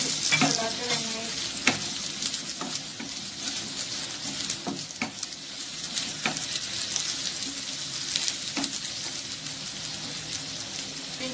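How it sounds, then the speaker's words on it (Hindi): Ginger and onion fry in a pan with a steady close-up sizzle, broken by repeated scraping and clinking as a spoon stirs them around the pan. "अब मैं इसमें जिंजर ऐड कर रही हूँ 1 मिनट के बाद। इसे भी चलाते रहना है।"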